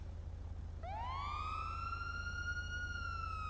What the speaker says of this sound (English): I'm going to have you turn your lights and sirens on.